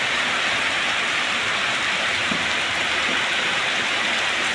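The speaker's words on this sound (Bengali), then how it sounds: "এত ঝড় বৃষ্টি, এত বৃষ্টি পড়ছে গো," Heavy rain in a storm, a dense, steady hiss of downpour on surfaces, loud and unbroken throughout, with no talking.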